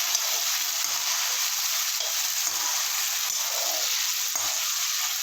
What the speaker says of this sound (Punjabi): ਹੁਣ ਆਪਾਂ ਇਹਨੂੰ ਤਲ ਲਾਂਗੇ ਕਰੇਲੇ ਆਪਾਂ ਨੇ ਪਾ ਕਰਾ ਕੜਾਹੀ ਇਹਨਾਂ ਨੂੰ ਚੰਗੀ ਤਰ੍ਹਾਂ ਭੁੰਨ ਲਾਂਗੇ